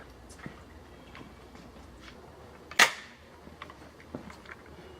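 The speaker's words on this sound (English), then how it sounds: "now let's try 22 long rifle. We'll be shooting subsonic." A single sharp, fairly quiet crack of a subsonic .22 Long Rifle round fired from a Hatfield rifle, with a short decay against a quiet outdoor background and a few faint clicks around it.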